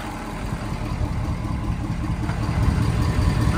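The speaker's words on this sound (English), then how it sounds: "This truck's just running." A 2017-2019 Ford 6.7 Powerstroke diesel truck with an EGR delete pipe and factory exhaust runs at idle, a loud, close, rumbling low-frequency clatter that holds steady and swells slightly toward the end.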